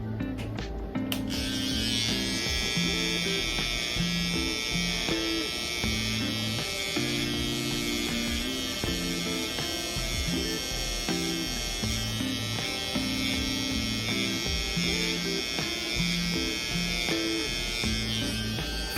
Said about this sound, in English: Don't tilt the trimmer, put it straight, and follow the line